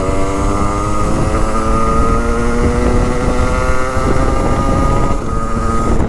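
A Sherco 50 SM-RS motorcycle engine drones continuously and loudly while being ridden, a steady buzzing pitch holding nearly level for the whole stretch.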